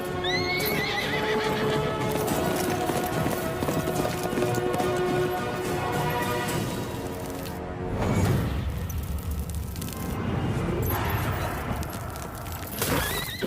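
A horse clip-clops with busy, close hoofbeats and gives repeated loud neighs and whinnies. The clatter is steady and continuous, with a brief crash-like burst partway through and no talk over it.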